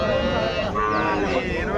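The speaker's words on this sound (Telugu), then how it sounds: "ఇక్కడ కూడా హెచ్ఎఫ్ బ్రీడ్ దూడ అయితే ఉంది" A Holstein Friesian (HF) breed calf at a cattle market lets out one loud, close moo lasting nearly two seconds, with crowd murmur underneath.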